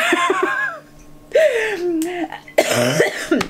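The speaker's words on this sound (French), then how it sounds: "En fait c'est une toux d'irritation." A person gives a few dry, irritated coughs and clears their throat between bits of vocalizing, close to the listener.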